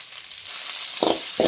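Shallots and curry leaves fry in oil for crab varuval, a bright hiss that swells suddenly, followed by two dull stirring thumps, close and loud with no voices.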